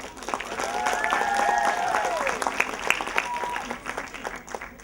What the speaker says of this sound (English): Please give a round of applause to Myra Alisa Faisal